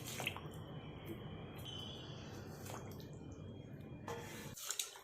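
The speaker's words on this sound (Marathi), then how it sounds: "मी शेपूची भाजी धुवून घेणार आहे" Dill leaves are dunked and swished in a pot of water, giving soft, faint splashing and dripping sounds in a quiet kitchen.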